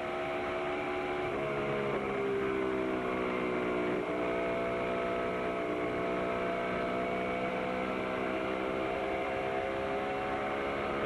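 Mark Martin's NASCAR race car at the 1999 MBNA Platinum 400 screams down the back straightaway in an onboard view, a loud, sustained high-revving engine drone with slight pitch shifts and no talking.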